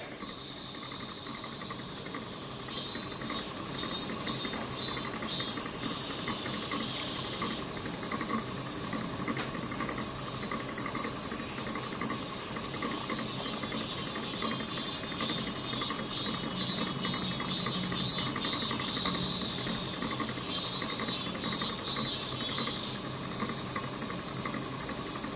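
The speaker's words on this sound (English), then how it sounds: "I think that would just continue to spin until the battery ran out of power" A homemade paper-clip electric motor spins on a battery, giving a continuous fine buzzing, rattling whir with a steady high hiss, close and unbroken throughout.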